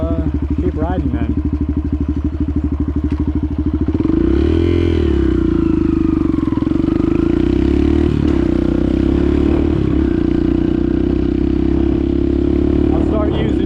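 Trail motorcycle, a KLX140 or CRF250R trail bike, riding a trail: loud close engine drone throughout, revving up and settling with rising and falling pitch, plus clatter and scraping, with a voice speaking over it.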